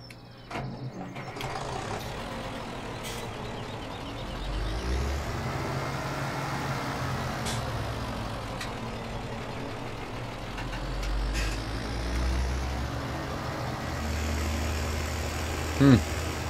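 Steady low truck engine drone from Farming Simulator 17, running continuously throughout with slight swells in level, a brief sharp click near the end.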